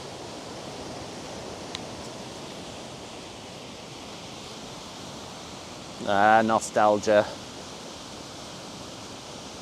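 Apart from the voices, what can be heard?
Ireland's highest waterfall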